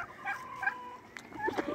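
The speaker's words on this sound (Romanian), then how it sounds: "Ăștia 3 din față, tot care vedeți și ăla de acolo, sunt curcani." Turkeys gobbling on a farm, several short rattling bursts repeating close by, with no talk over them.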